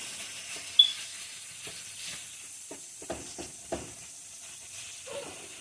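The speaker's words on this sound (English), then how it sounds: "Flip that meat, brown it." Meat browning in a pan at home while enchiladas are being made gives a faint, steady sizzle and hiss, broken by a few light utensil taps and scrapes.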